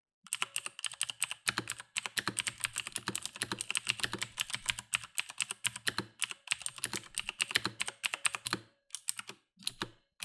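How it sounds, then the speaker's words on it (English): Fingers type steadily on an Everest Max mechanical keyboard, giving rapid, close clacking keystrokes in dense bursts with brief pauses, with no voices. "when you hit your keys, it kind of makes the sound like doom, doom"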